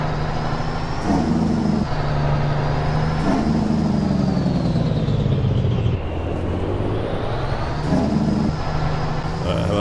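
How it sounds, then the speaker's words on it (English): A truck's engine brake drones in American Truck Simulator, a loud, continuous engine note that falls in pitch in repeated steps as the truck slows, then climbs again at shift points. "Wow, the engine brake is really slowing me down."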